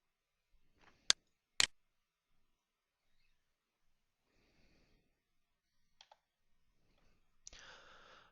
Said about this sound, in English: I'm going to click the hyperlink